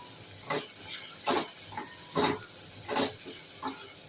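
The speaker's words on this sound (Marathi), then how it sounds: "छान सर्व परतून घेऊया" Soft sizzling in a pan with several rhythmic scraping strokes as turmeric and garam masala are stirred and tossed for a cashew curry, spaced about a second apart.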